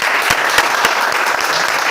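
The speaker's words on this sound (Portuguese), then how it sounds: "uma salva de palmas para os dois que eles merecem" A dense, steady burst of applause from a lecture audience, many hands clapping continuously and loudly with no voices standing out.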